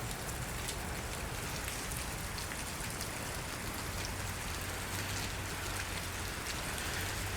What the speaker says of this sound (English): the sound of the rain is soothing.